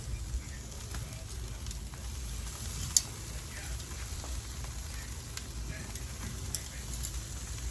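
Chicken laid skin side down on a wood-fired grill gives off a steady, moderate sizzle with faint crackles and an occasional tick, close by and continuous, with someone speaking now and then.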